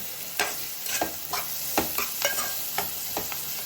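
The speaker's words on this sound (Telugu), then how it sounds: "ఉల్లిపాయలు అయితే బాగా వేగిపోయినాయి ఇదిగో బ్రౌన్గా ఎర్రగా" Onions fry in a pan and turn brown while a spatula stirs them, scraping in a steady rhythm over a continuous hiss of oil, close and clear, with no talking.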